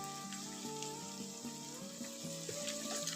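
Ginger garlic paste and tomato frying in a pan, a steady soft sizzle throughout with faint clinks and tonal kitchen sounds over it, no talking.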